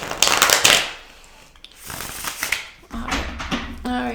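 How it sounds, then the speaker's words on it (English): A deck of cards is shuffled close up, with a loud rapid riffling flutter at the start followed by softer shuffling and sliding card sounds, and no voices. "I'm gonna do one more shuffle"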